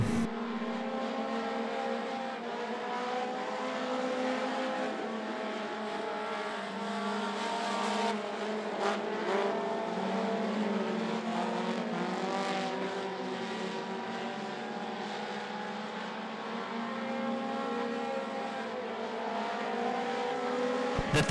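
Race cars lapping at I-75 Raceway, a steady loud roar of several engines with harmonic whine and brief surges as cars pass, continuous throughout with no talk.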